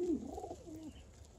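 Siyazan pigeons give one short, soft throaty coo, close by and fairly faint, fading after about a second with no talking over it.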